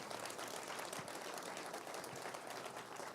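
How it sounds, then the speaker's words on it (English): An audience at a community cabinet meeting applauds, a steady, fairly faint wash of many hands clapping throughout with no speech over it. "would you once again give them a round of applause and thank them?"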